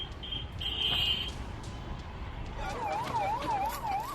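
Fire engine sirens wail at a tent fire set off by a gas cylinder explosion at the Kumbh Mela, a steady tone first and then a rising and falling siren that repeats several times, moderately distant.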